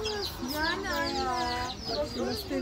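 Several chickens cluck and squawk close by at a bird market in Istanbul's Egyptian Bazaar, in a busy, noisy setting, with bursts of overlapping bird calls throughout.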